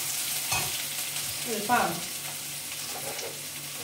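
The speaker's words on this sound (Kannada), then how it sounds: "ಅದಕ್ಕೆ ಈರುಳ್ಳಿನ ಫಸ್ಟ್ ಒಗ್ಗರಣೆ ಹಾಕಿದ್ದೆ" Onions sizzle steadily as a tempering in hot oil in a home kitchen pan, with a spoon scraping and stirring through the hiss and a brief spoken word.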